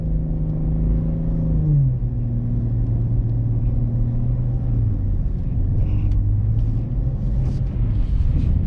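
A BMW G20 M340i with rear-wheel drive climbs a snowy hill in a blizzard, its engine rumbling loud and close with a rising rev at the start that settles into a steady low drone.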